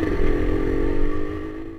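Suzuki RG Sport motorcycle engine running steadily while riding, a loud, close, continuous drone with a slight easing toward the end, no voices.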